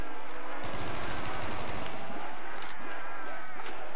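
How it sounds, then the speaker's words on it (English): An AUG rifle fires at zombies in Call of Duty's Shi No Numa zombies mode, with dense, rapid bursts of loud gunfire packed closely together across the clip. "we're gonna whip out the AUG and shoot the hell out of these zombies"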